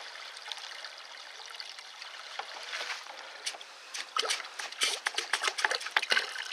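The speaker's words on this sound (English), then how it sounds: "now I'm doing a reverse flush" Water gushes and splashes in uneven bursts during a reverse flush of a badly plugged car heater core, growing louder and choppier toward the end, close to the microphone with no speech.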